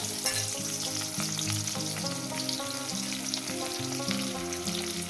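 Onions frying in hot oil left over from frying fish in a wok: a steady, dense sizzle runs loud and continuous throughout, with no voices over it.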